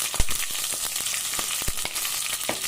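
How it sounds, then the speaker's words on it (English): Garam masala spices fry in hot oil in a pan for a spicy mutton dish, giving a steady, close sizzle with small crackles and pops and no talking. "Put the garam masala when the oil is nice and hot"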